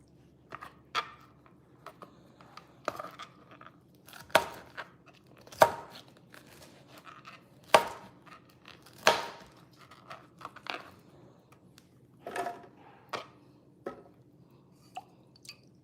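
A knife cuts pineapple for from-scratch juice, giving irregular juicy chops and crunches a second or two apart, close and fairly quiet, with wet squishy drips between strokes and no talk.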